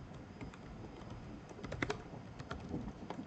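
Light, irregular keystrokes on a computer keyboard during a Django setup at a computer, a quiet, close patter of clicks that grows a little busier midway, with no talking.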